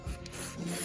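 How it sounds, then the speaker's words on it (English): Rubber care product being rubbed onto the mid-fairing trim of a 1986 Suzuki GSX-R 750 motorcycle, a faint, close, continuous soft rubbing and wiping sound lasting under a second. "I'm going to use this rubber care stuff just to do some rejuvenating on this trim for the mid-fairing."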